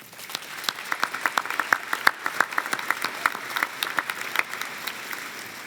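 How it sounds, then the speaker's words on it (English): Audience at the 2022 Anderson High School graduation ceremony giving a round of applause, a steady mid-distance patter of many hands with sharper individual claps standing out, no talking over it. "So graduates, let's give everybody here a nice round of applause"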